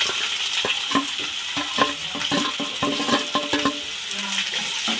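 Two large finely chopped onions go into hot oil in a home kitchen pan for a mushroom gravy, giving a steady frying sizzle with scattered scraping and clinking stir strokes, close and without talk.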